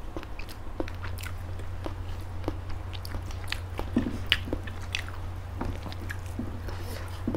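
Close-up mukbang eating of grilled chicken with green chili sambal: repeated wet bites, squishy chewing and soft crunches in an irregular rhythm, mostly without speech.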